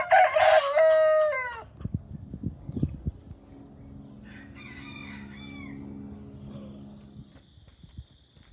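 A farm rooster crows loudly up close, followed by scattered clucking from chickens against quieter barnyard background noise.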